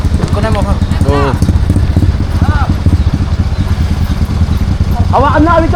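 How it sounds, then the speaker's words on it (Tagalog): Fighting horses at a horse fight, with steady thudding hoof clatter and stamping close by, under loud overlapping shouts and talk from people watching. "Hawakan yung kabayo."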